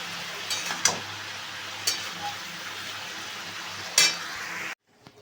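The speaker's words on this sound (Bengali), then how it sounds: "এবার সবজিগুলো থেকে দিয়ে দিলে নুন নুন দিয়ে ভালো করে ভেজে নেবো" Vegetables frying with salt in a pan for shukto give a steady close sizzle, with a few sharp utensil clicks and scrapes, before the sound cuts off abruptly near the end.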